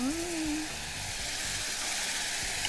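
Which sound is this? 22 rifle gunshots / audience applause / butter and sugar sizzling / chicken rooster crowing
butter and sugar sizzling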